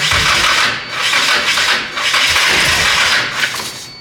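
An engine turns over on the starter with kickback from overly advanced initial ignition timing. It makes a loud, close, rough grinding crank that surges in uneven pulses for about four seconds without catching.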